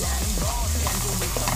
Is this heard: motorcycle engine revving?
no